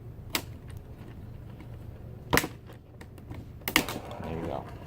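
Plastic screen bezel of a monitor being pried off, giving three sharp cracking snaps spaced a second or two apart over a low steady hum, up close, with a voice speaking around them.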